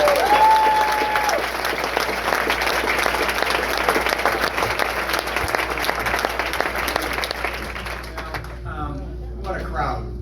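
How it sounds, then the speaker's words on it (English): A large crowd applauds Congressman Ed Perlmutter at a rally, steady dense clapping filling the room for about eight seconds before thinning out, with some voices audible near the end. "Let's give him a round of applause"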